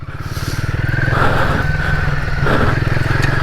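A Royal Enfield Himalayan 450 motorcycle rides a UK trail, its single-cylinder engine giving a steady, close, loud thrum that rises slightly in revs and holds constant throughout, with no voices.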